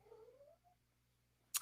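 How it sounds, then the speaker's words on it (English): A cat gives a faint, drawn-out rising meow in a quiet indoor room, followed by a short sharp noise. "This cat, I don't know what's up with her today."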